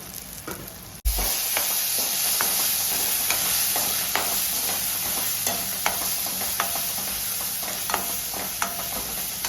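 Crab masala stirred and fried in a pan, a steady loud sizzle with regular scraping stir strokes throughout after a brief thump at the start.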